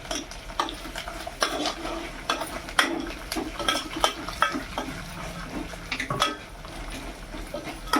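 Dry red chillies fry in oil for tamarind rice, heard as a soft, continuous crackle with repeated stirring clinks and scrapes of a utensil against the pan.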